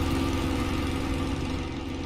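Steady, even drone of a Spitfire L.F. Mk IXc's engine in a flight simulator with the canopy closed, a muffled, continuous low hum with no talk.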